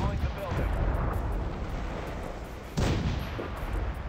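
Heavy gunship cannon fire rains on zombies in the game Zombie Gunship Survival, booming in repeated deep blasts over a constant aircraft drone, with a sharper loud shot partway through.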